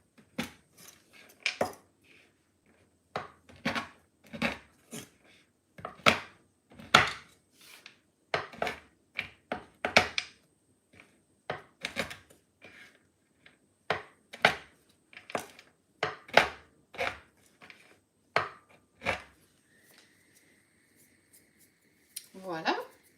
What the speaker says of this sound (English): so you want to cut small pieces. It's gonna be easier to melt.